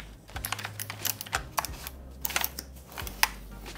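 Keys pressed on an ROG Strix Scope RX optical gaming keyboard, a full-size board, giving sharp, close clicks in irregular clusters with brief gaps over a low steady hum.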